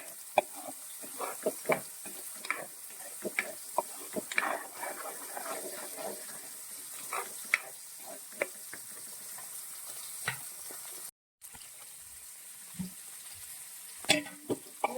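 Karimeen (pearl spot fish) curry ingredients sautéing in a pan, with steady soft sizzling and repeated scraping stir strokes, close up and moderately loud, no talking.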